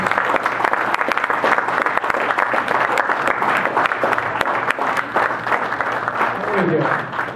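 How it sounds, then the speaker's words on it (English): A crowd claps for a guest speaker and volunteers at a gathering, with sustained, loud, even applause that fills the whole stretch without a break. "Give him a round of applause."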